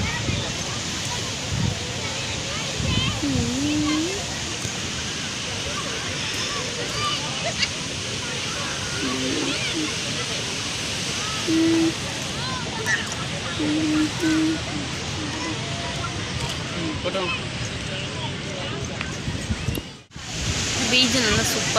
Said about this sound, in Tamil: பீச் நல்லா சூப்பராக இருக்குது